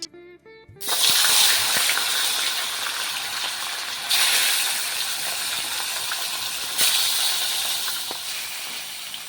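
Fish being washed at a riverbank, with loud, close splashing and rushing water in three long surges, each starting with an abrupt burst and fading slightly. Nobody speaks.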